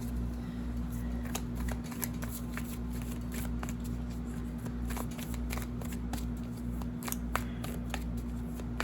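Tarot cards being shuffled by hand, a near, continuous run of crisp riffling flicks and slaps over a low steady background hum.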